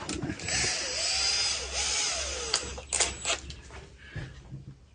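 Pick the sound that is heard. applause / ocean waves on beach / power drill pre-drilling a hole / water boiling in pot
power drill pre-drilling a hole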